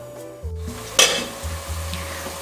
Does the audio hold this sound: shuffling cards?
no